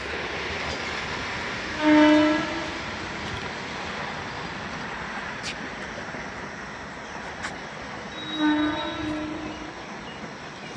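A train running towards Sealdah rumbles steadily along the track, sounding its horn twice, near the start and again toward the end, with no talking.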